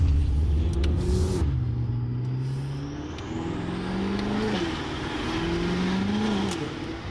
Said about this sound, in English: The intake noise is insane.